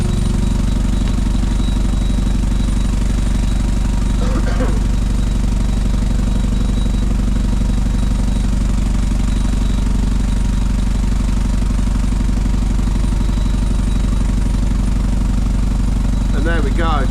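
A superfinisher machine runs with a steady loud mechanical roar and hum while MGB cam buckets rattle and clink together inside it, continuous throughout.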